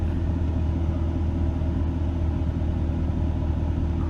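A Chevrolet Silverado SS clone truck rolls along the road at night, its engine a steady low rumble with constant road noise, close and even, no voices.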